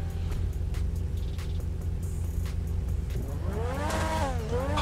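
A supercar engine in GTA 5 rumbles at idle, then revs up with rising and falling whine after a few seconds, loud and close with no talk.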